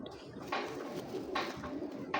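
Several soft, low pigeon coos sound close by in short repeated bursts, with faint background noise between them.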